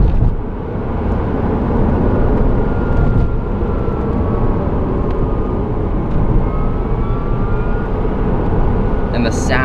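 A small Tesla Roadster electric sports car accelerating, heard from inside as a loud, steady rush of road and motor noise with a faint rising whine, voices mixed in underneath.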